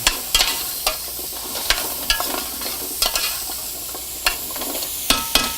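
Butternut squash and thyme sizzle steadily in a pot, a soft continuous frying hiss broken by a series of sharp, close stirring scrapes at irregular intervals.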